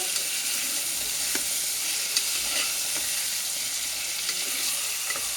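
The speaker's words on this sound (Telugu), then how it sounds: "మాంసంలో నీళ్ళు ఇంకే వరకు వేయించుకోవాలండి బాగా మసాలాతో పాటు" Mutton pieces fry with onions, ginger-garlic paste and masala in a pan, giving a steady loud sizzle with occasional soft clicks of a stirring spoon, no voices.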